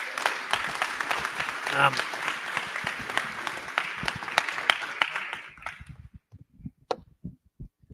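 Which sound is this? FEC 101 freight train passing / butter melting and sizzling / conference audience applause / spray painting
conference audience applause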